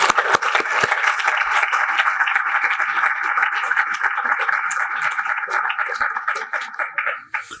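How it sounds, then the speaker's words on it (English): Applause for volunteers and staff at the 2023 Festival of Words Writers Award ceremony honoring author Stephen Graham Jones, a steady round of clapping from a seated crowd that holds for several seconds and then tapers off near the end. "would you please stand at this time and let us recognize you with a round of applause?"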